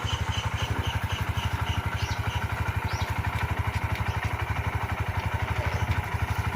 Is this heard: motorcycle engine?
yes